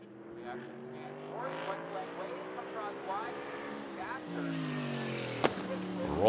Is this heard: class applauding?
no